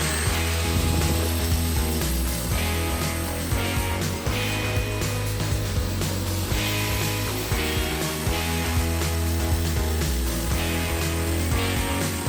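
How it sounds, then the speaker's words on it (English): A handheld drill spins a part against a coarse flap disc, used as a makeshift lathe in a truck bed build workshop; a loud, steady whirring grind runs unbroken throughout. "Chuck something in the drill. Start your handheld lathe."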